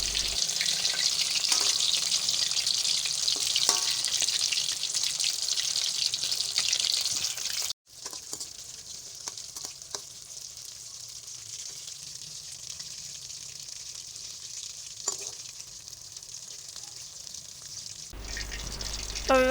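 Fish sizzles steadily in hot oil in a pan, a continuous close frying hiss that dips briefly mid-way, with faint clinks and water-like crackle.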